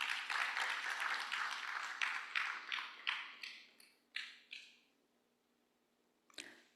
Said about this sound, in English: could you clap for him as he comes to the stage?